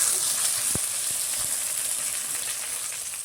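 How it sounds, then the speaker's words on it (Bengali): Brinjal (eggplant) frying in oil, a steady faint sizzle and hiss with a few soft clicks and pops, heard alone without talk. "বেগুনগুলো সুন্দর করে ভেজে নিয়েছি,"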